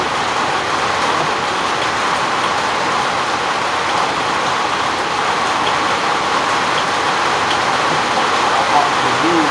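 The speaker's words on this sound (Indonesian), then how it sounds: "hujannya malah semakin merajah ini teman-teman" Heavy rain pours steadily, a dense, loud hiss that fills the whole stretch without a break.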